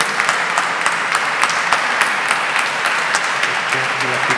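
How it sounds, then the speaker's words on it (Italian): Sustained audience applause at an international classical guitar competition, a loud, even roar of many hands clapping with distinct individual claps popping through, steady from start to finish. "Applauso."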